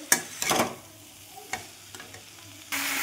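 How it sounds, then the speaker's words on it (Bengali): Katla fish head and vegetables are stir-fried with spices in a pan, giving a few sharp scraping stirs and clatters over a soft sizzle, then a loud burst of sizzling at the end. "সব উপকরণ একসাথে আমি কষিয়ে নেব ভালো করে ওই মশলার সাথে।"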